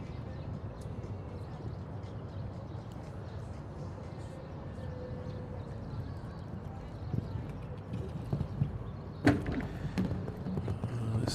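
A show-jumping horse canters around the course, its hoofbeats a soft, rhythmic clip-clop at middle distance under a low background murmur, with a sharp thud near the end.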